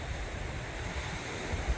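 Ocean surf rolling onto a beach at Filey on the UK coast at dusk, a steady low wash of waves with wind buffeting the microphone, fairly close and continuous, no voices.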